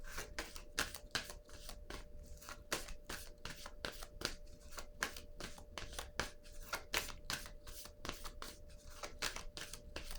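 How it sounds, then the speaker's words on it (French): Tarot cards being handled and laid down, with a steady run of soft, close papery flicks and rustles repeating evenly throughout over a quiet background. "Je vais déposer une carte ici."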